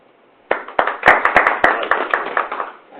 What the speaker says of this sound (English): I think they deserve a round of applause if that's appropriate.